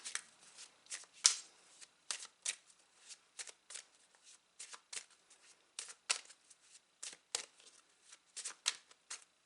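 Tarot cards being shuffled and drawn by hand. Soft, crisp riffling and slapping comes in quick irregular bursts, close and quiet, with no talk.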